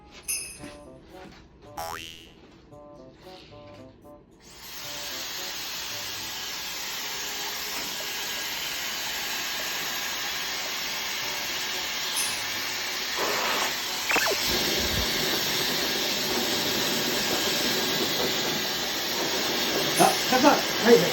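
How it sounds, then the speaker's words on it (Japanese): A hair dryer runs in a hair salon, a steady loud blowing hiss that starts abruptly after a few seconds of quiet voices and continues unbroken to the end. "ドライヤー借りてもいい？"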